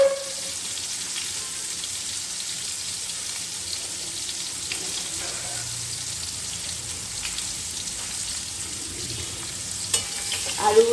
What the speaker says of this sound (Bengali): দেখুন, আমার ভাজা হয়ে গেছে।